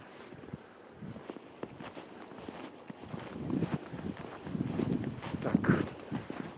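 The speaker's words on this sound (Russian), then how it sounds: "У нас везде лошади ходят." Horses walking on a spring street in Yakutsk, with irregular hoof clops that grow closer and louder over several seconds against light wind and outdoor background noise.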